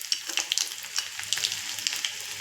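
Garlic cloves frying in hot oil with fenugreek seeds, cumin and urad dal, a steady close sizzle with scattered crackles and pops, no voices.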